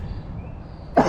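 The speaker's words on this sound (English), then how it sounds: "Excuse the cough." A single short allergy cough bursts out near the end after a quiet, low hum of background noise at a cemetery in Fort Worth, Texas.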